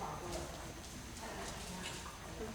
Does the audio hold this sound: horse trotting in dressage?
yes